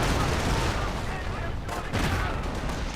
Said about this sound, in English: Friend squad firing away.